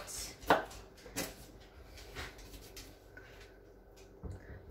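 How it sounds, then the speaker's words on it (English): Knife dicing vegetables on a cutting board in a home kitchen, a few sharp, distinct chops spaced out over several seconds, fairly quiet and close with little talk. "So we're just dicing that up."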